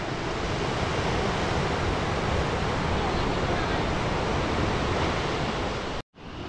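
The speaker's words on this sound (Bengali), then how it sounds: "ওইখান থেকে আসছে জলটা, এই দিক দিয়ে বয়ে কোথায় চলে যাচ্ছে জানি না" River water at Rishikhola in East Sikkim, flowing as a loud, steady rushing roar, close and constant, before cutting out abruptly near the end.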